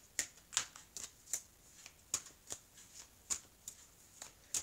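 Oracle des miroirs oracle cards being shuffled and handled, producing a steady series of crisp, close card snaps and flicks at a regular pace, with no talking.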